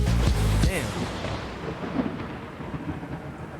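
Thunder and rain from a song: a deep rumble of thunder fades into a steady wash of rainfall, with a voice briefly audible at the start.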